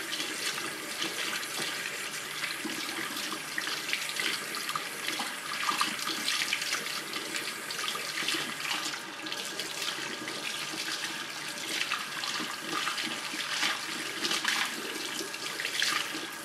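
Running water from a sink tap pours steadily as colour is rinsed out of short hair, a continuous close splashing rush with no talk.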